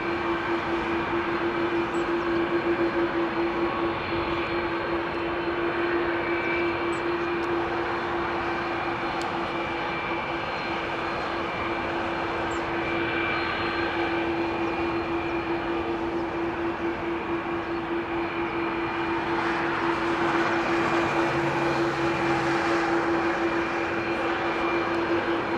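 Big jet airliners rumble overhead at London Heathrow, a steady, loud, broadband roar with a sustained tonal hum that swells slightly as arrivals and departures pass, with no talking.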